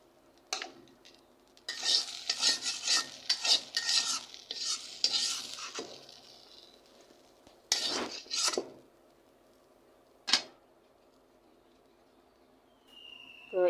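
Rohu fish heads frying in oil in a pan, turned and stirred in uneven bursts of scraping and rustling over a soft sizzle, then quieter gaps broken by a few sharp isolated clinks.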